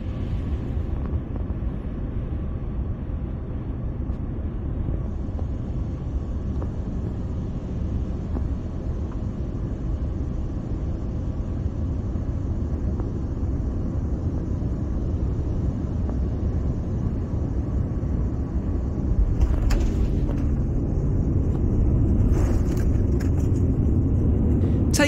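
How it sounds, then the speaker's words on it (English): Steady broadband rumble of an airliner landing at Abu Dhabi in fog, heard from inside, droning evenly throughout and swelling slightly louder near the end as touchdown noise builds. "what it is like landing in Abu Dhabi in sunny and foggy weather"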